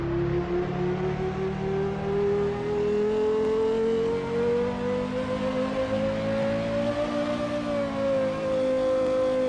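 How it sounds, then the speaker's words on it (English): A Porsche engine in a Roblox driving game hums and revs steadily, its pitch climbing slowly and leveling off, with a smooth synthetic tone and no talking. "This Porsche sounds so good."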